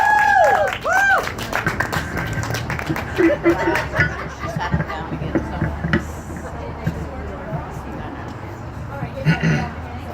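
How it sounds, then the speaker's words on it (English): Audience applause for a videography talk, a burst of clapping with whoops and chatter, loud at first then thinning into crowd murmur and laughter with voices talking over it. "Give a big round of applause for Mr. Alex Tonne."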